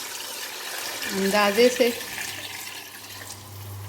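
Water pours into a pot of cooked spice mix with onion and tomato, the base for fish majboos rice, giving a steady wash of splashing while someone speaks briefly over it.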